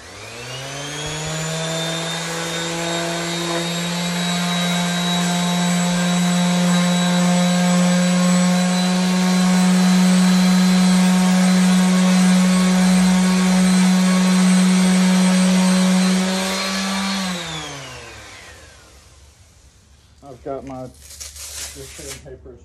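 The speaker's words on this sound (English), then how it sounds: "This is a Bosch random orbital sander." A Bosch random orbital sander whirs steadily on wood at close range with a strong droning hum, then spins down and stops, followed by brief clatter.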